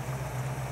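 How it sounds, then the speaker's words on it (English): Classic car engine idling low with a carburetor, a steady, deep, slightly burbling hum, close and moderately quiet, with no voices. "you'll notice that the idle's burbling a little bit down in the lower setting"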